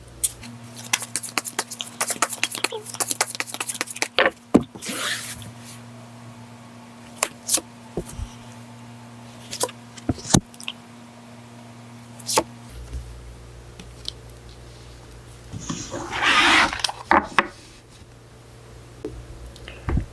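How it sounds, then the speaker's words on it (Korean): Tarot cards being shuffled and drawn up close: quick clicks and flicks in irregular bursts, a longer papery rustle near the end, and a low steady hum underneath. "오늘은 추가 카드 먼저 뽑고 리딩을 시작할게요."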